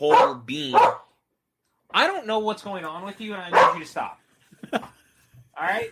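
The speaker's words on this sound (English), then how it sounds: "And so I apologize for the barking." A dog barks behind an office door, several loud bursts in irregular clusters with whimpers between them, while a person speaks to it over the barking.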